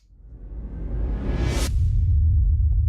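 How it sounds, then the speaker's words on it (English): A rising swoosh builds over a second or so, then a heavy impact hits and leaves a deep rumble ringing out. "more swooshes and hits and things."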